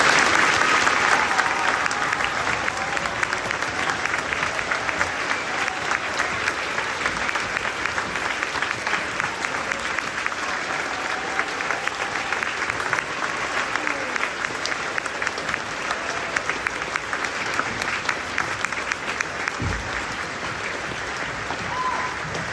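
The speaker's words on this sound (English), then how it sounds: "Let's give these folks a big round of applause." School assembly audience at a Veterans Day event giving a long round of applause for Army veterans, steady dense clapping from a large crowd that carries on evenly without letting up.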